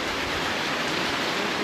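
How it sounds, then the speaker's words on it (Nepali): Heavy rain falling outdoors during a solo trip from Chitwan to Jhapa in Nepal, a dense, steady hiss of downpour that holds constant and fairly loud through the short stretch, with no voices. "के साह्रो पानी परेको"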